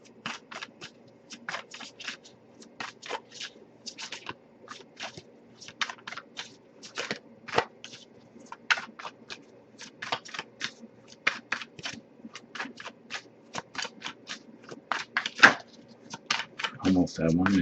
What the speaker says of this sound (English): if I shuffle for a while without anything coming up, I'll just move on to the next deck